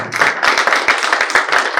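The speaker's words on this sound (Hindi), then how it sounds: "तालियां बजा सकते हैं।" An audience at a panel event on AI, art and literature claps steadily in a dense burst of applause, close and loud, with no speech over it.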